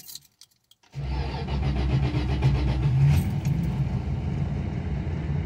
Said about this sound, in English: But let's start it up.